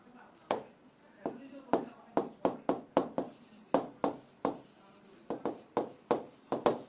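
Chalk or marker strikes a board during a chemistry lecture, producing a series of sharp, close taps and scrapes in an irregular writing rhythm, with faint speech between strokes.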